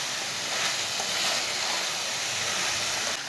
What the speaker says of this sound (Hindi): तोरी डाल के इसे 2 मिनट तक भून लेंगे